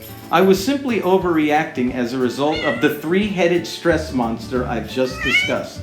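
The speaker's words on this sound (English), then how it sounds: "That's our cat Pisco" Pisco, a pet cat in the Eastern Caribbean, meows repeatedly and fairly loudly, the cries woven through a continuous close voice speaking over them.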